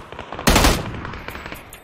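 Video game gunfire crackles in one loud, close burst that fades quickly, with faint background sounds before and after.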